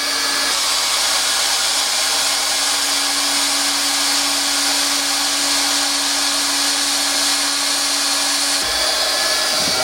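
MIG welding a run along the other side of a steel workpiece: a steady, loud continuous hiss and buzz with a constant hum, holding unbroken for nearly the whole stretch before cutting off abruptly near the end.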